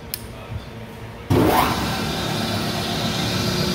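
A reconditioned Hollymatic 180-A mixer grinder with a 10 horsepower motor switches on abruptly after a quiet moment, its whine rising quickly as it spins up, then settling into a loud, steady running hum. A voice is faintly audible before startup.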